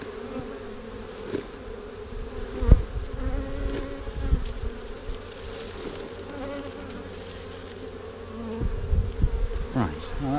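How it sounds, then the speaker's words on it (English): A swarm of bees hums steadily close by outdoors, a dense continuous buzz with occasional louder thumps and rustles from handling nearby. "There's more bees than you think."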